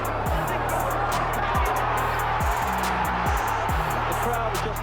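Dense crowd noise fills a boxing arena during a Michael Watson versus Nigel Benn fight. The roar is steady and continuous, with no breaks.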